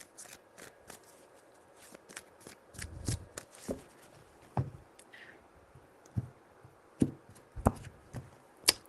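Tarot cards are shuffled in quick riffling bursts and soft slaps, with sharper snaps as the deck is squared, close and fairly quiet, with no talk.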